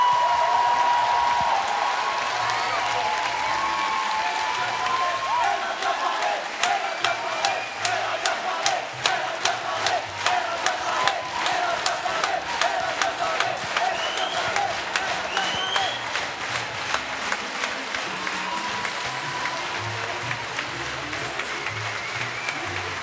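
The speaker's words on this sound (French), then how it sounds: "Un tonnerre d'applaudissements." After a musical theatre performance, a large audience keeps up long, thunderous applause with cheering and shouts, and midway it turns into rhythmic clapping in unison before loosening again.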